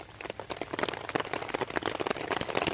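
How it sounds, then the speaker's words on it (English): Rain falling at a late-summer wild camp, a dense patter of close, crisp drops tapping steadily on a nearby surface with no voices. "It takes it to another dimension when it's raining while camping."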